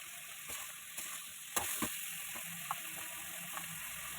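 Soybean chunks and cut potatoes sautéing in a pan, with a steady sizzle and a few scattered clinks and scrapes of the spatula as they are stirred, close and fairly quiet.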